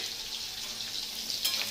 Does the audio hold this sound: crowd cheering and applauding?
no